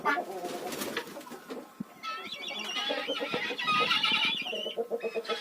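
Chickens cluck and chatter in a busy, close flock inside a coop, with a rooster's calls and scattered hen squawks layered over each other.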